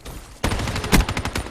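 Rapid automatic gunfire from a weapon in the video game Black Ops 3, a sudden loud burst of repeated shots that keeps rattling steadily for about a second, with one louder crack near the middle.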